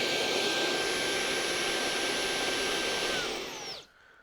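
A Conga RockStar 2500 stick vacuum cleaner runs at maximum suction, giving a loud, steady high-pitched whine with a faint tonal hum for several seconds before it winds down and cuts out.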